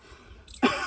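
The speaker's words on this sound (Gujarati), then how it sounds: "આ ઉધરોસ બંધ કર" A man gives a short, sharp cough, loud and close after a brief quiet moment.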